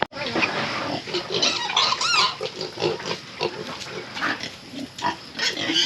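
Farm pigs grunt and squeal in a pen close by, a busy overlapping chorus of snorts and sharp squeals rising and falling throughout without any speech.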